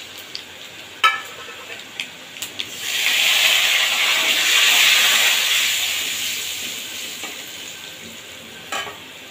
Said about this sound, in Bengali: ওই তেলের মাঝখানেই একটুখানি সাদা জিরে আর 2টো তেজপাতা ফোড়নে দিয়ে দেবো